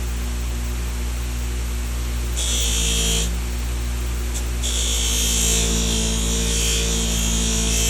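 A power buffing wheel hums steadily while a Case Canoe pocket knife is pressed against it for polishing, with brighter, louder grinding bursts as the blade makes contact, close and continuous without speech.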